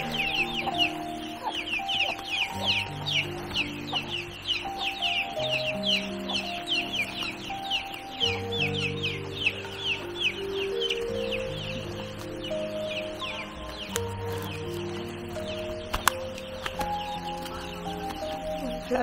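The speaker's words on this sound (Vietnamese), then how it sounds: "Cái này gà người ta nuôi mà." Domestic chickens clucking outdoors, soft repeated clucks and chirps at moderate distance running through the whole stretch, fairly faint beneath other background sounds.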